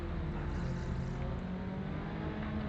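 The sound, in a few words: Tatuus race car engines revving on the grid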